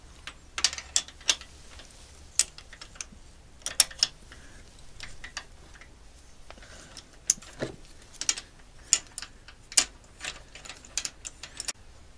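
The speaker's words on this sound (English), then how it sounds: "now we're going to remove all six of the spark plugs. So with our 14mm socket," A ratchet with a 14mm socket loosens the six spark plugs on a BMW K1600 motorcycle engine, giving bursts of sharp, close clicking pawl strokes in uneven runs over about twelve seconds, no talking.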